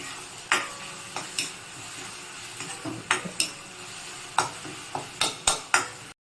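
Cabbage being stirred and sautéed in a pan while making a rice flour and curd breakfast dish, with a run of sharp spoon scrapes and taps against the pan over a faint sizzle, close and fairly quiet.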